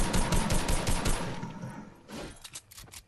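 Shotgun blasts and surrounding gunfire in the Fortnite battle royale game ring out loud and dense at first, then thin into a few separate sharp reports.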